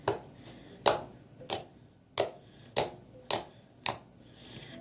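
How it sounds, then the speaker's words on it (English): Slime made with detergent is poked eight times in a slow uneven rhythm, each a sharp close snap or pop, with quiet gaps between and no talking. "This one I think might have the best poking noise."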